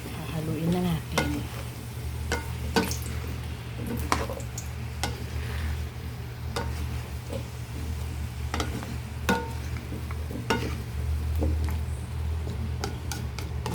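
Squash and string beans cook in a pan for ginataang kalabasa at sitaw, with a steady sizzle and a low hum under sharp, irregular clicks and scrapes of a utensil stirring the vegetables.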